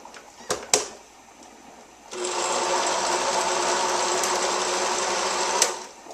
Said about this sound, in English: I'm going to just blend that for a minute